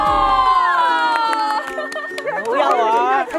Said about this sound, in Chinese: 大家欢呼！